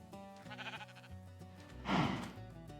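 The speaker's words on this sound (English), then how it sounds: "Now we have a sheep." A sheep in the Minecraft video game bleats a couple of times, short wavering calls heard clearly over soft game background music, with no talking.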